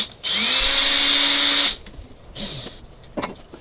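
A power drill drives regular screws into a rub rail on a Panga 22 boat, one loud steady whir of about a second and a half, followed by fainter clicks and knocks of handling.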